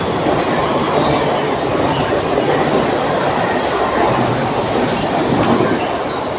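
A fast train rushes past close by at Sion station, Mumbai, a steady loud roar of wheels on rails with faint clattering throughout, no voices.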